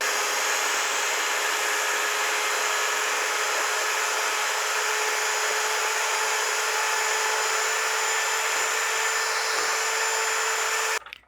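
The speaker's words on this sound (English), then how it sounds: "So I'm beating the egg whites to a stiff peak." An electric mixer beats egg whites to stiff peaks for a dairy-free keto ice cream cake, a steady whirring motor hum held at even loudness for about eleven seconds before it cuts off abruptly at the end.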